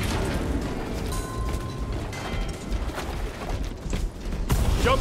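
A jump pack fires up in Warhammer 40K Space Marine II, a dense mechanical roar with rumbling low thrust and clanking, creaking metal sustained across the whole moment, loud and close with no talk over it.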